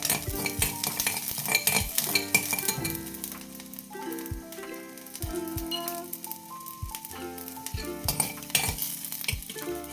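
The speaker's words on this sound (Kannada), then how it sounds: "ಇದು ಸ್ವಲ್ಪ ಕೆಂಪಗಾಗೋವರೆಗೂ ನಾವು ಫ್ರೈ ಮಾಡ್ಕೊಳ್ಳೋಣ." Finely chopped garlic frying in a pan with a steady sizzle, broken by clinks and scrapes of a stirring utensil, all under background music.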